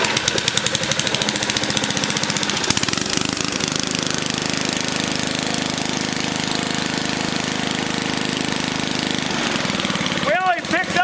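A rebuilt Tecumseh small engine runs steadily at close range with a loud, continuous mechanical drone and rapid knocking pulses, rising slightly as it picks up speed after a brief change in tone early on.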